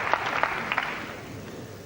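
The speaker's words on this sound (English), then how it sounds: "Crowd cheering on this Davis comeback." A crowd at a 9-ball pool championship breaks into applause and cheering, with a few sharp claps standing out at first before the noise fades steadily over a couple of seconds.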